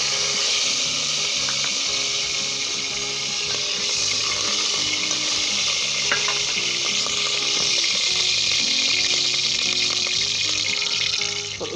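Onions frying in about three tablespoons of hot ghee in a pot over high heat give a loud, continuous sizzle that holds steady throughout, with faint clinks.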